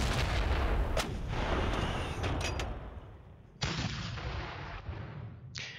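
Artillery gun fire in a Panzer Battles North Africa 1941 war game: a dense rumble of repeated booming shots, with a sharper fresh blast near the end and another just before it fades.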